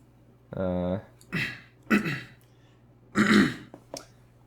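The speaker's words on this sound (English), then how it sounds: "I'm like actually clearing my throat" A person clears their throat a few times in short, rough bursts, close up and otherwise quiet, with a brief voiced hum at the start.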